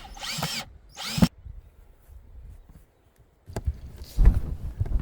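A power drill drives screws while an incineration toilet is installed: two loud whirring bursts near the start, a quiet stretch with faint handling noise, then another drill run with rattling and bumps toward the end.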